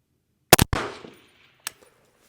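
16-inch-barrel 6.5 Creedmoor rifle firing at a small square steel plate out to 600 yards: a loud close muzzle blast with a decaying echo, then about a second later a faint metallic ping of the distant impact.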